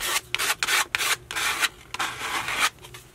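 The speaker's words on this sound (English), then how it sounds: "I'm just going to kind of pick up some color every once in a while and scrape it on" A card scraping paint across a textured mixed media board: close, loud rasping strokes in quick bursts, each a rough scratchy swipe separated by brief pauses.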